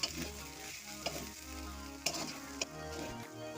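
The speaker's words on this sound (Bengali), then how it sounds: "এবারে নাড়াচাড়া করে নাড়িয়ে নেব" Spoon stirring a dry potoler dorma filling seasoned with black pepper and garam masala in a pan, with soft continuous scraping and light sizzle broken by a few sharp clinks of utensil on metal, close and alone.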